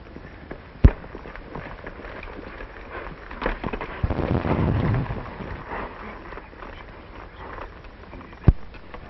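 Two sharp, loud bangs like gunshots, one early and one near the end, with scattered bustle and rumble in between.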